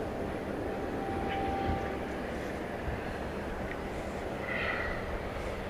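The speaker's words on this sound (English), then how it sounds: "It's American 2421, Airbus A320, arriving from Des Moines" American Airlines Airbus A320 arriving at DFW Airport at night, heard as a faint, steady distant jet rumble, with a few soft higher sounds over the drone.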